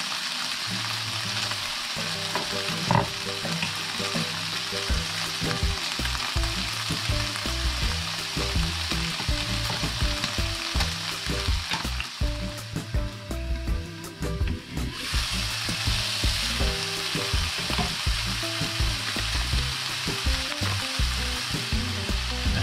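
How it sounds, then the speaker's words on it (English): A white onion fries in a pan for egg fried rice, producing a loud, continuous sizzle with stirring scrapes and brief watery hissing. No one speaks. "Just going to put an onion in with it"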